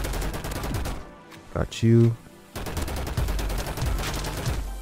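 Gunfire in Roblox Energy Assault rattles in rapid bursts, a loud blast mid-clip followed by a fast train of shots, with a player's voice speaking briefly over it.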